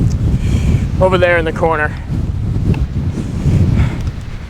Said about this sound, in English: Other than it being unbelievably windy for pretty much the 1 millionth day in a row this year.